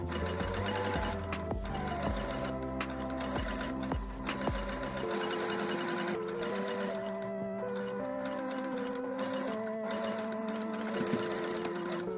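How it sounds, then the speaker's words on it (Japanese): A sewing machine stitches a skirt seam, resewing from the start of the original seam during a hip-narrowing alteration; a steady, close, continuous mechanical whirr and rapid needle clatter runs alone throughout. "ウエストは詰めないので元の縫い目の始まりと同じところから縫います"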